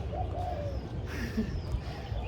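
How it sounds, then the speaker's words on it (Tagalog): Soft bird calls and cooing drift over a steady outdoor hum of wind and distant noise in a park. "yung mga sounds dito, mga huni ng ibon"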